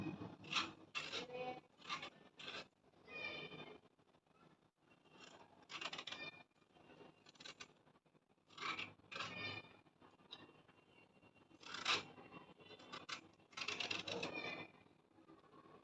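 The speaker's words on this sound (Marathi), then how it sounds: "जशी आपण बटाट्याची साल काढतो तशी याची साल काढून घ्यायची आहे" Close, faint rasping scrapes in short irregular strokes as raw banana skin is peeled like a potato, each stroke a brief rough scratch with small gaps between, with no talking.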